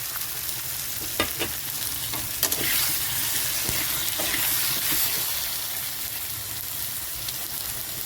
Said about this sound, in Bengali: মশলাটা কষানোর জন্য একটু জল দিয়ে দিচ্ছি